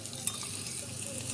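Onions sizzling in a hot pan for tomato rice, a steady frying hiss with a brief stir clink near the start.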